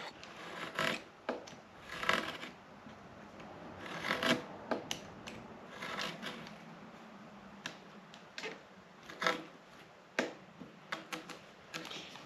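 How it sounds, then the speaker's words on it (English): A sharp razor blade makes light, repeated slicing passes on reinforced hose pipe, producing a series of short scraping rasps with pauses between strokes, close and fairly quiet. "Making a few light slices with a sharp blade is usually a little easier than just trying to cut right through it at one shot."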